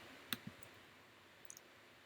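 A few soft, distinct computer mouse clicks in simulation software for a mill flowsheet: a close pair near the start and another faint pair later, with quiet room tone between and no talking.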